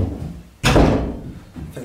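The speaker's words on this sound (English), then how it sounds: "I'll go close the door." An indoor door closes once with a single close, solid slam followed by a brief fading tail and a lighter knock.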